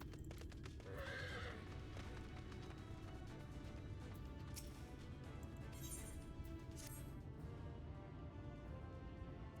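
Horse hooves clip-clop steadily while riding in the video game Final Fantasy 14, with occasional neighs and whinnies over a dense, continuous bed of game ambience and music.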